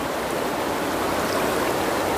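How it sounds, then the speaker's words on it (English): High river water swollen by weeks of rain rushes past in a steady, loud, broadband wash, continuous and close with no voices. "the water is a little bit high."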